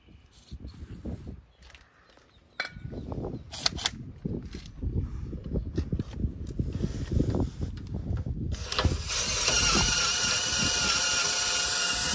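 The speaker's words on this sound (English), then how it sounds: "working on drilling on the other side" Power drilling into the steel frame of a 3/4-ton Ramcharger truck being chopped and shortened, with intermittent bursts of cutting and grinding noise, then a sustained, louder whine building toward the end, in a shop setting.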